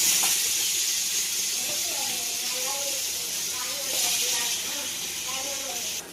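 Tomatoes go into a pan of roasting onions for chicken biryani, giving a steady hiss and sizzle that holds for several seconds with a slight surge midway.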